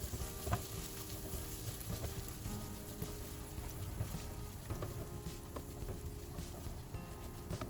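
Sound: carrots and onions sautéing in pan

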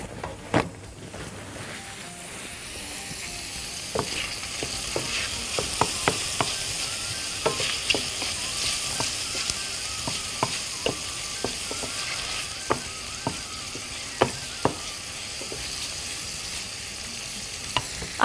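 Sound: duck liver and gizzards frying in oil

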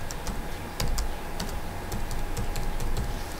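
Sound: typing a password on a computer keyboard

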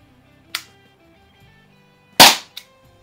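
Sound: Umarex T4E TR50 .50 caliber CO2 revolver shots

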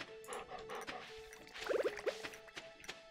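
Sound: dog whimpering in Stardew Valley video game

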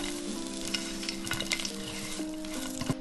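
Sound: Brussels sprouts frying face down in a pan

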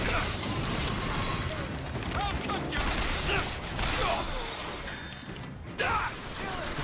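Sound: gunfire in the video game BioShock Infinite

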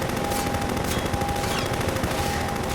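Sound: helicopter firing at player in video game Half-Life 2

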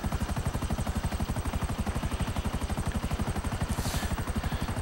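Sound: Buzzard helicopter flying, from the video game GTA 5

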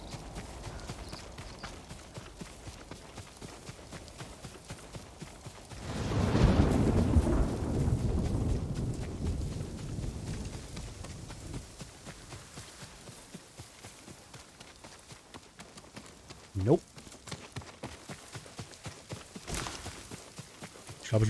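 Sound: thunderstorm in the video game Ghost of Tsushima

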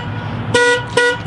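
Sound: aftermarket car alarm system sounding

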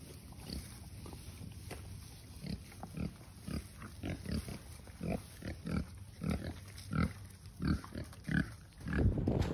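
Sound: boars grunting in their pen

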